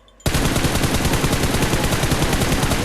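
Automatic gunfire in PUBG Mobile, a sustained rapid burst of loud, close shots starting abruptly after a brief quiet moment and running steadily to the end.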